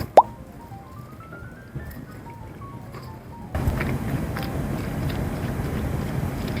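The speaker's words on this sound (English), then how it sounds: "I'm gonna add the cabbage into the pan. I put a little bit of water in there" Chopped cabbage drops into a pan holding a little water, a soft plop followed by faint dripping, then a steady low sizzling bubble as the pan heats, with no voices.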